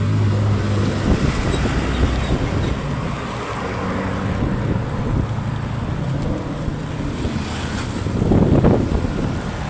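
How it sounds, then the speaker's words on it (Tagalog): Strong wind buffets the microphone in continuous gusts, with a low rumble and a louder surge near the end. "malakas ang hangin"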